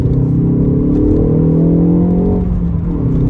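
Ford Focus ST Mk4 engine revving inside the cabin with enhanced synthesized engine sound, a loud steady rumbling growl that swells and holds before easing off toward the end, no talking.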